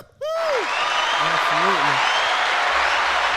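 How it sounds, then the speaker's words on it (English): Applause starts abruptly and holds as a loud, steady, dense wash to the end, with brief talk over it early on. "Let me give an applause."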